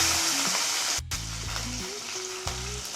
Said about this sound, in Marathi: तेल गरम झालेलं आहे त्याच्यामध्ये जिरं मोहरी टाकू, हिरवी मिरची